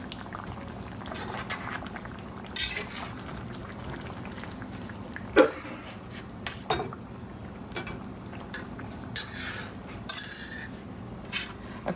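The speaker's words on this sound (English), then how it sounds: "I'm kind of using the pork chops to stir it" Pork chops stirred through simmering mushroom soup in a pan, with soft bubbling, wet sloshing and occasional clinks of metal against the pot, close and quiet with no talk.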